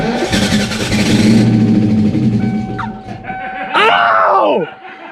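A Ford SVT Cobra engine cranks and catches with a loud, rough burst, then a raspy rising rev that drops away, with a shout during the start.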